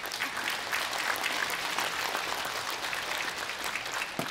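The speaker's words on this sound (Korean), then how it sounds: "큰 박수로 무대로 모셔주시기 바랍니다" Dense, steady applause from a large audience at a Buddhist Enlightenment Day joint dharma assembly, a continuous wash of clapping filling the hall for several seconds without a break.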